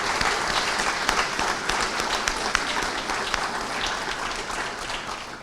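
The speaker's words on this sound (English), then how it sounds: "Let's give the golf team and the lacrosse team a round of applause." A press-conference audience in an athletics department gives a steady round of applause for the golf and lacrosse teams, dense and sustained clapping filling the room at moderate loudness with no talk over it.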